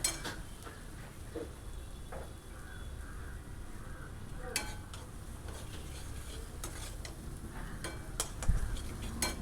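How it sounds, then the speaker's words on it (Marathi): Homemade masala spice mix frying in oil in a pan for a Marathi masoor bhaji, with a soft, steady sizzle and intermittent scraping and stirring clatter of a utensil against the pan, faint and close. "मसाला आपण जेवढा तेलावरती छान परतून घेऊ तेवढंच भाजीला स्वाद जास्त चांगला येतो"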